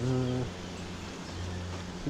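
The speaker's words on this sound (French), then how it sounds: "elles se mettent à ventiler pour aérer la ruche. Ah c'est ça le son." Honey bees fan their wings at the hive entrance after being smoked, making a steady close buzzing drone that carries on throughout, with a voice briefly over the start.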